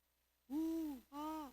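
A human voice imitates a bird call used as a form of language, making two clear, hooting, owl-like tones in a row, the second slightly shorter, close and alone.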